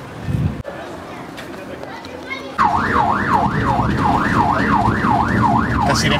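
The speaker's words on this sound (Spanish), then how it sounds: "¿Esta sirena que has puesto qué significado tiene?" An ambulance siren wails in a steady rising-and-falling cycle, loud and close, starting a few seconds in after muffled handling noise, with people talking underneath.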